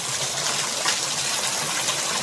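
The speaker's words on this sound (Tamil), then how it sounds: "ஸோ இந்த வாட்டர் ஃபால்ஸோட தண்ணி ஃப்ளோ கம்மியாக இருக்குது" Water pours at Sivanathapuram waterfall in Vellore, running with low flow as a steady, broad rushing hiss that stays fairly even throughout with no talking.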